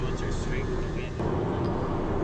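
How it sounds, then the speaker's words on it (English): A four-blade turboprop aircraft slows and taxis on a runway at a small airport, its steady propeller and engine drone filling the cabin at close range, dipping briefly in level partway through. "the four-blade props create so much drag that the aircraft slows up really, really quickly"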